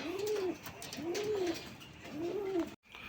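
A pair of Lotan pigeons coos softly up close, three rolling, evenly spaced coos over a quiet background.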